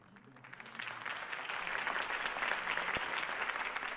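Crowd applause in the video game Batman: Realm of Shadows swells from quiet into a steady, dense wash of clapping that carries on at an even level.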